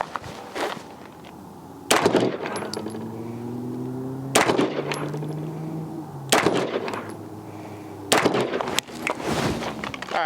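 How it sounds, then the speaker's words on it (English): A Fowler Vanta 9 handgun fired outdoors at small steel targets: about six sharp, loud shots spaced a second or more apart, several followed by a ringing metallic ping from the struck steel. "just shot my first bench rested group"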